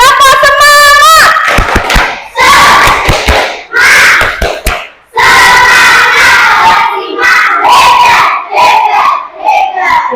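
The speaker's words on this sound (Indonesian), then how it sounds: "kita tepuk semangat dulu ya" Classroom of students performing the tepuk semangat chant, voices shouting in unison between bursts of sharp rhythmic clapping, loud and close throughout.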